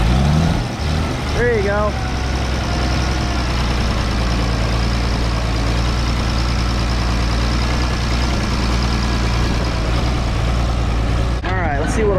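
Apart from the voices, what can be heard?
tractor engine revving and idling during baling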